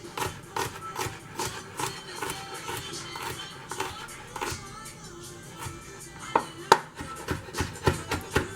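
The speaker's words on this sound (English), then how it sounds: "cut up the garlic" Garlic is chopped with a knife for a veggie-tofu stir fry: a steady run of crisp, close knife strikes on a board, quickening near the end, with no voices.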